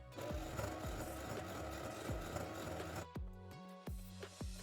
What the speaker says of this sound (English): Now let's try doing the stitch again and see how that works.